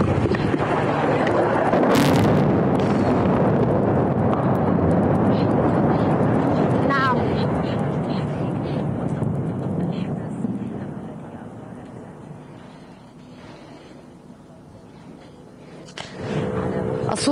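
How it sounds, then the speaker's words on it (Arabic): Israeli aircraft airstrike on a residential area, a heavy rumbling roar of blasts and jet noise that swells loudly at first, fades over the clip and rises again at the end, with a reporter talking over it. "هذه الغارة التي شنها الطيران المعادي مجددا"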